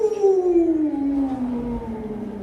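A single voice imitates an ambulance siren, a steady wailing tone that slowly slides downward in pitch over a couple of seconds, fairly loud and close.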